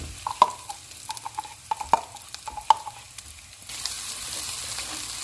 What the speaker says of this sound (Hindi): इसे हम इतना फ्राई करेंगे कि लहसुन का कच्चापन खत्म हो जाए